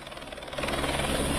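A rescue helicopter flies over Kedarnath with a continuous rotor and engine roar that swells louder after the first half-second. It is close and no one speaks.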